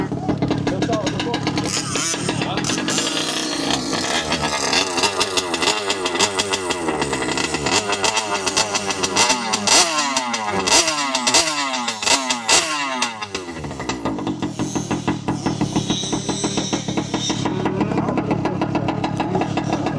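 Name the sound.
2-stroke petrol engine of 5th scale RC car running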